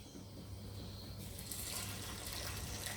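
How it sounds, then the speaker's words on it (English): Water pours steadily into a pot of pumpkin soup mix at close range, starting partway through and then running as a constant rushing gush. "I'll just add water to that."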